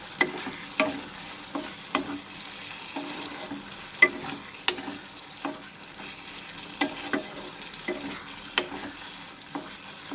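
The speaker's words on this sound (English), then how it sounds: "stir it, mix it nicely." A spatula scrapes and clacks through raw papaya curry in a hot pan in a regular rhythm, close and clear over a low sizzle, with no talking.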